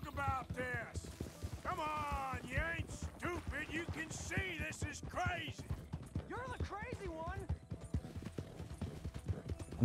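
Galloping horse hooves in Red Dead Redemption 2 pound in a quick, even clip-clop beat for the whole stretch while someone talks over them.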